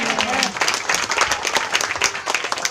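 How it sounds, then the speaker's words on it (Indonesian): A church congregation gives loud, sustained applause, many hands clapping densely and close, with a voice heard briefly at the start. "Berikan tepuk tangan sekali lagi buat Tuhan."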